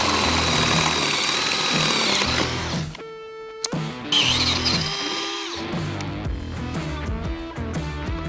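A loud power drill whines and grinds in bursts while boring holes in a Toyota Tundra CrewMax cab for a roof rack, its pitch rising and settling, close by and harsh.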